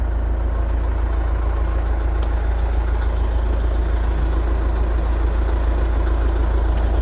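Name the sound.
Austin Western 99H grader engine running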